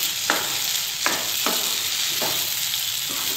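Semolina halwa with cardamom powder and dry fruits is stirred in a pan, with a few distinct spatula scrapes over a steady, soft cooking hiss.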